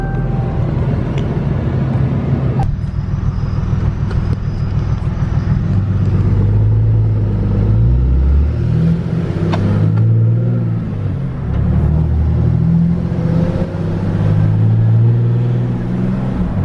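A Ram truck drives along at night, its engine a steady low rumble with gentle swells as it accelerates and eases off, close and continuous with no talking.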